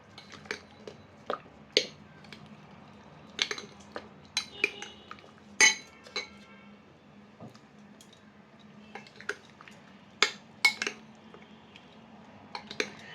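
Chicken being mixed by hand with chicken masala for a meat khichuri, giving soft wet squishes and light clicks of utensils against a dish, scattered irregularly and close up with no talking.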